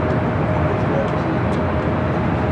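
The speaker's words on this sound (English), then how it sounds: "Alright, we got that Lufthansa A350" A Lufthansa A350 airliner landing at LAX produces a loud, steady jet roar with a constant whine on top, continuous and close with no break.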